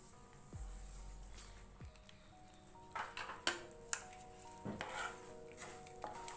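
Semolina stirred continuously in warm ghee in a pan, giving soft scraping and light clinks of a spoon against metal, with a few sharper taps near the end; no talking.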